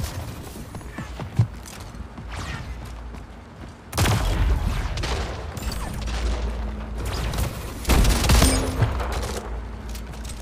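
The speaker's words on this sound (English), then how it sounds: "Seriously, that's a shotgun?" Shotgun blasts from Splitgate gameplay, with loud booming shots around 4 and 8 seconds over a constant mix of game noise, mechanical clatter and scattered distant gunfire.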